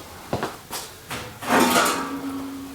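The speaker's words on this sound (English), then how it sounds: "just take that panel, let it loose" Metal front panel of a GE dryer being loosened and pulled free after its screws are out: a few sharp clunks and scrapes, then a sustained rattling slide of sheet metal, close by.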